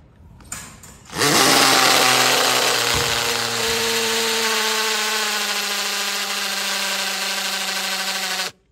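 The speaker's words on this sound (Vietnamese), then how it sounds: "khoan mũi khoan tường như này mà nó không bị ngắt mạch này" A battery cordless drill with a 4-cell pack drills into a wall, starting with a short click and then a loud, steady high-pitched whine that holds for about seven seconds before stopping.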